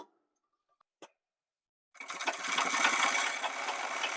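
A sewing machine stitches a shirt sleeve margin, starting after a couple of small taps and clicks and then running steadily at close range for a couple of seconds with a fast, even mechanical chatter.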